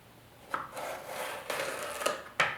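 A Global knife cuts through hard vegetables with crisp clicks and rough, grinding scrapes as the blade forces through, ending in a sharp knock on the board, close and alone with no talking.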